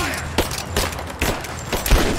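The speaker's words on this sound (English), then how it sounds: "I'm taking fire." Bursts of video game gunfire crack out in quick succession, loud and close, several shots with brief gaps between them and some voice chatter underneath.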